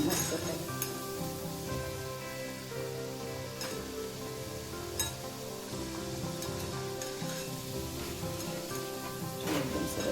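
Churma dough pieces frying in ghee give a steady close sizzle throughout, with faint background voices and occasional kitchen clinks.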